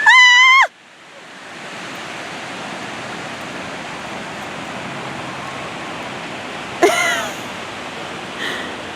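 Ocean surf at a Los Angeles beach, a loud, steady broadband wash of waves filling the scene, broken briefly at the start and near the end by short shrill bursts of sound.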